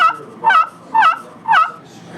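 A gobbler yelp played slowly on a turkey call at a turkey hunting lodge in New York: four evenly spaced, drawn-out yelping notes, loud and close, with no talking.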